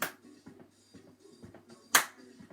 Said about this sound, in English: Clap and tap